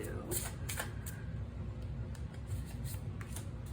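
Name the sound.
tarot cards being shuffled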